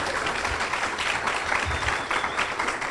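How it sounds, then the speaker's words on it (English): Audience applause for a Healthy Teen Coalition at a Kiwanis Club of Bradenton meeting: dense, continuous clapping from a room of people, steady and fairly loud throughout with no voices standing out. "let's give another round of applause for our Healthy Teen Coalition"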